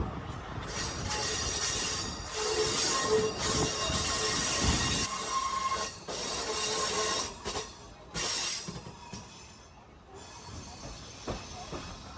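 A tourist train near Cañon City, Colorado, rumbles steadily along the rails with broadband clatter and occasional metallic squeals from the wheels, close and fairly loud throughout.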